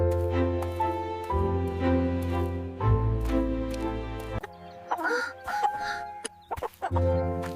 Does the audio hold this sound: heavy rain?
no